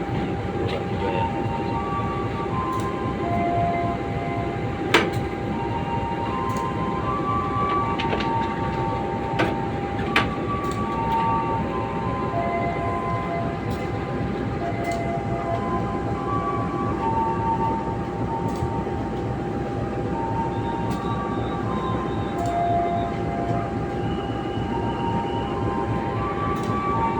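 Turangga passenger train running on rails, a steady loud rumble with rhythmic clatter, squeals and occasional clanks heard from onboard throughout, with no talk.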